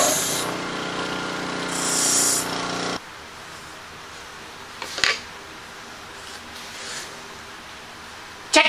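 A loud, steady metal-on-metal rasp of a file sharpening the outside of woodworking divider points for a few seconds, then quieter scraping with a couple of sharp clicks.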